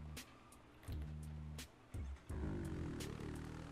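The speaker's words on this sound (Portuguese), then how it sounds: "Ó o tanto de moto passando agora." Motorcycles in the game GTA 5 roll past in a city at night, several engine bursts rising and dropping in separate waves, fairly near and loud against sharp intermittent clicks.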